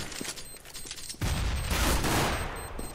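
Gunfire erupts in Counter-Strike on the de_mill map, scattered shots at first, then a sudden dense burst of rapid automatic fire that stays loud and sustained.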